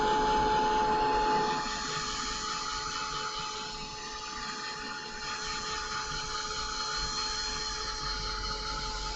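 A heat tool runs steadily to dry a crafting piece before paint goes on. It gives a loud close whir that drops slightly in level after the first couple of seconds and then holds steady without talk.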